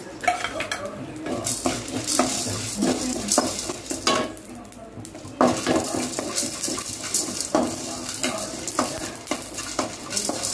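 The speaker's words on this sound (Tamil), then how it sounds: "மூட்டை ஒன்றா வறுத்துறேன்." Whole spices for garam masala dry-roasting in a pan, with busy close scraping and rattling of a metal spoon stirring them, clanks of the pan and a faint crackle underneath.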